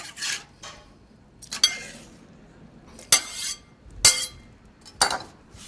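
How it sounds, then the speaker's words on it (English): Knife chopping citrus pieces on a board for a citrus Bundt cake: a handful of separate crisp clicks and thuds, spaced about a second apart, close and fairly quiet with no voices. "Go ahead and cut them up."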